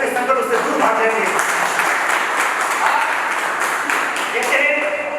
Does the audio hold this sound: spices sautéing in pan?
no